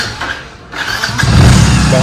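A motorcycle engine starts outside a house in the evening, a short cranking sputter that catches and settles into a loud, close, rumbling idle.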